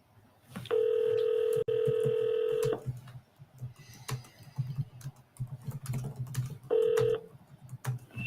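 A telephone rings in loud bursts during an office call being transferred to a cell phone: one long ring, then a quieter stretch of faint clicks and line noise, then a shorter second ring.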